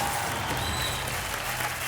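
Audience applause on the Hindi TV game show Dus Ka Dum, a dense burst of clapping from a studio crowd, loud and sustained throughout.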